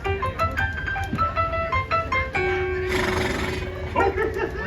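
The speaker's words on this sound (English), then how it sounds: "That's Maximus, a horse of the Royal Guard, and he's after me." Maximus, a Royal Guard horse in a live Tangled stage show at a Disneyland theatre, neighs loudly with a long whinny, clip-clop hoofbeats and music around it.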